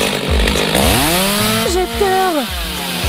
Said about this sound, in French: Je vais avoir besoin d'une bonne protection et de ma tronçonneuse préférée.